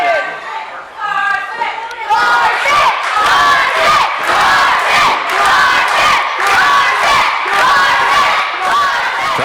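Independent wrestling crowd at a Texas tournament match chanting and cheering loudly, rhythmic pulsing shouts with thuds building after a quieter start, commentary voices mixed in.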